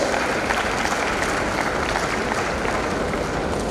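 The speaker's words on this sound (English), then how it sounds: "Let's all welcome with warm applause Father Melvin Joseph Pinto, our honorable chief guest for the day" A crowd at a dental college graduation day gives continuous, dense applause to welcome the chief guest, a steady wash of clapping with no pauses.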